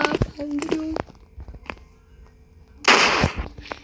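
A bomb bursting on a man's head in the video game Dark Riddle, a short noisy explosive burst near the end, preceded by game clicks and tones, with a voice speaking over it.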